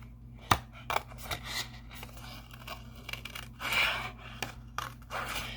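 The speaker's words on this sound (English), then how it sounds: "So I'm just going to take my scissors" Scissors snip and crunch through paper in several irregular cuts, with sharp clicks and soft scraping between, close and fairly quiet.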